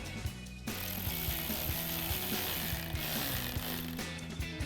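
Socket ratchet with a 7mm socket tightening a hose clamp on the catch-can hose of a 2.0L turbo Jeep Wrangler JL, a steady stream of rapid pawl clicks up close over a noisy garage background.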